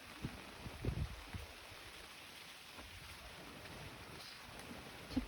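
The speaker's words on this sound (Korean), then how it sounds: "갑자기 바람이 너무 세게 불어가지고" Strong wind gusts at a rainy campsite as a typhoon approaches, heard as low rumbling buffets, loudest near the start and end, over a quiet, steady rain-like hiss.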